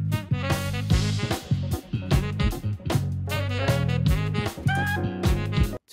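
A jazz fusion piece from a debut album plays loud and busy, with a steady bass line, punchy drum hits and bright melodic lines over it, and no voices.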